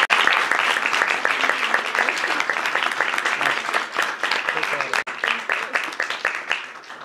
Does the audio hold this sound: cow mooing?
no